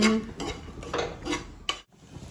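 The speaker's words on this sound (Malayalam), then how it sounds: "ഇപ്പം ചെമ്മീൻ കറി വെക്കാൻ തേങ്ങ വറുത്തോണ്ടിരിക്കുകയാണ്" Grated coconut dry-roasting in a pan for prawn curry: a short run of spatula scrapes and clinks against metal, close and fairly loud, with a faint sizzle beneath.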